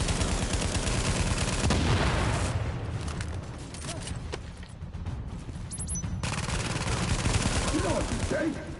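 Sustained gunfire fills the video game The Division, with rapid automatic bursts and heavy shots dense at the start, easing midway, then building again into continuous loud firing.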